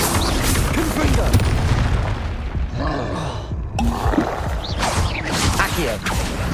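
Loud spell effects from the video game Hogwarts Legacy, with dense booms, whooshes and crackling blasts following one another closely. A voice may briefly call out between them.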